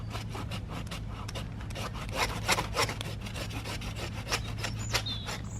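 A pruning saw cuts through a rosemary-leaved willow branch with close, steady rasping strokes in a quick back-and-forth rhythm, with no voices.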